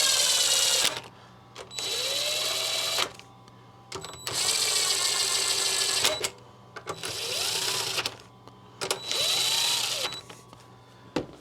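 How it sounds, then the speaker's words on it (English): A power tool runs in repeated bursts of about two seconds with short pauses, loud and close, while bolts on a Honda GX140 small engine are run down ahead of tightening with an inch-pound torque wrench. "I'm just going to tighten them in a cross pattern."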